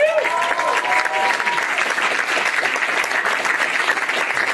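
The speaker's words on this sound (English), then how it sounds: "Give it up for Mike Scroy." Loud, sustained audience applause at a comedy show, thick crowd clapping from start to finish with a brief whistle-like tone near the beginning.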